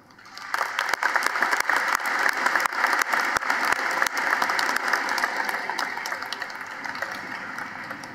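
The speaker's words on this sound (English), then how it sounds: "Please join me in giving these people our applause." A large commencement crowd at South Dakota State University breaks into sustained applause, a dense, loud wash of clapping that holds steady for several seconds before slowly thinning out.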